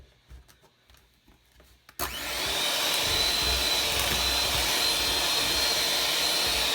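An electric hand mixer creams butter with a cup of white sugar for lemon blueberry muffins, starting abruptly after a quiet couple of seconds and then running as a steady, loud whir to the end.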